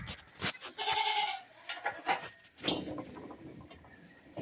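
Several goats bleat nearby in a pen where a baby goat has just been born, their cries overlapping with short, brief gaps between them.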